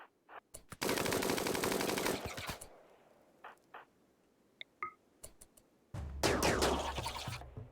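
Bursts of automatic gunfire in the video game New Colony, a long loud rattling volley, a few scattered single shots and clicks, then another heavy burst near the end.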